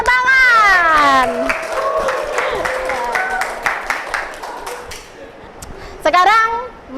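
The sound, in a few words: classroom applause for quiz winners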